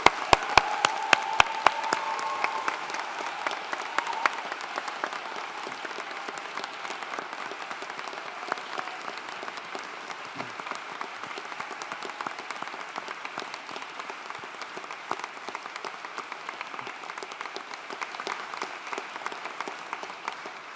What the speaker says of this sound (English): Let's all give our autumn graduates a big round of applause.